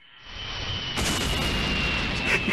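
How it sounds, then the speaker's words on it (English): A big explosion in an animated fight show, beginning with a short rising rumble and then a loud, broad blast that roars on steadily for about a second and a half with no talk over it. "Big explosion!"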